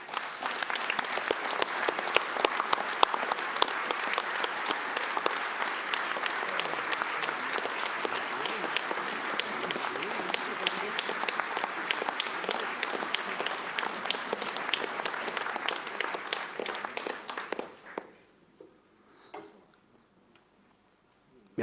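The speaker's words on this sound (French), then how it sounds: "Je vais leur demander de bien vouloir se lever pour que nous puissions tous les applaudir." A hall audience at a mayor's New Year ceremony applauds young people standing, with sustained dense clapping and a few sharper near claps, then the applause fades out near the end.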